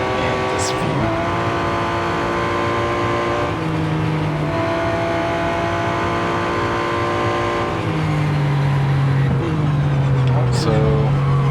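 A Porsche 911 RSR race car engine in Real Racing 3 at Le Mans screams continuously close up, its pitch climbing through gears with brief shift drops and rising again, loud and sustained throughout.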